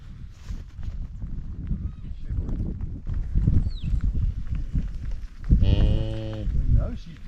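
Cows on a farm moving about close by in pouring rain, with shuffling and thuds under a steady wet background, with one clear moo near the end.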